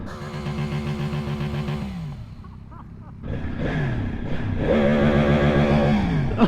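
A Yamaha R1 motorcycle engine revs hard at full throttle in first gear, rising pitch sweeps climbing, dropping off briefly, then surging again loud and close.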